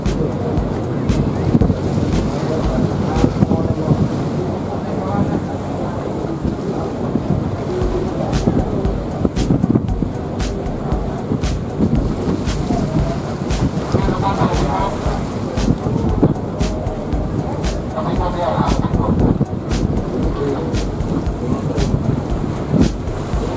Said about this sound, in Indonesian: Ini anginnya tiba-tiba kenceng banget.